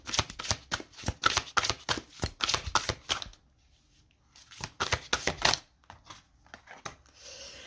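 A deck of Aloha oracle cards is shuffled by hand in quick, papery riffling bursts, a long run, a short pause, then a second run, close and fairly soft.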